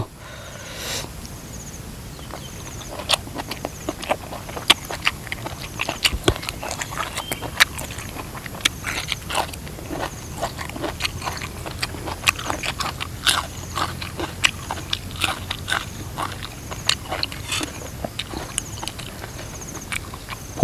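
Close, crisp crunching as something crunchy is chewed, steady repeated bites with short pauses, no voices.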